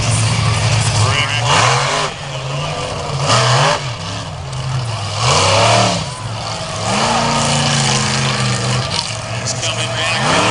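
At the Beach Nationals in Wildwood, New Jersey, a monster truck's engine roars and revs in repeated loud surges, its pitch rising and falling, while an announcer talks over it.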